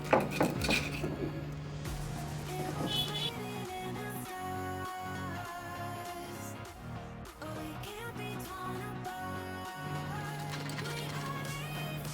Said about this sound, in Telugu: ఈ విధంగా చిన్న చిన్న ముక్కలు కట్ చేసుకోవాలండి